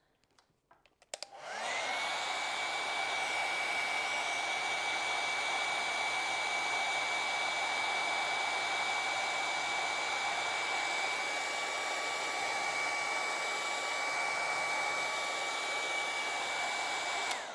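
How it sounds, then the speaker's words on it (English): A hair dryer switches on after a brief rustle and blows continuously at a steady, loud whooshing whine for the rest of the time, drying acrylic paint. "Now I'm going to use the hairdryer to dry this."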